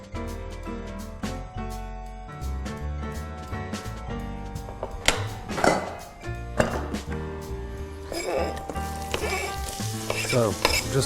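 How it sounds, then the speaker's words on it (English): Steady sizzling of onions frying in hot oil in a pot for shakshuka, with occasional clatter of a utensil stirring, close and continuous. "So, just frying that off."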